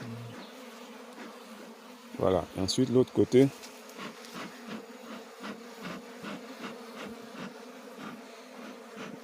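Honeybees buzz steadily around an opened hive during a French apiary inspection, a continuous drone from many insects. It is broken by a burst of louder handling knocks and scrapes, and a person speaks briefly over it.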